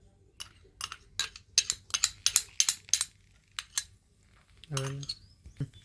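A spoon stirs jalebi batter mixed with Eno, ghee and lemon in a bowl, making a quick run of sharp metallic clinks against the side for about three seconds, then a few sparser taps and a brief voiced sound.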